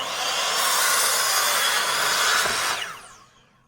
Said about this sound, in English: Okay, let's cut these joists.